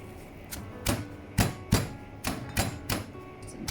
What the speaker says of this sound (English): You grind it until very fine.